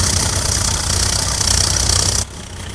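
A Swaraj 855 tractor engine in Farming Simulator 22, hauling a heavy load of stones, runs as a loud steady diesel drone that drops abruptly in level near the end.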